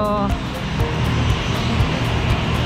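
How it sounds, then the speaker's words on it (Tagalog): Airplane engine droning loudly and steadily nearby at an airport in Aklan, a continuous roar with a faint rhythmic pulsing and no clear talking. "Ayan guys yung aeroplano na natin."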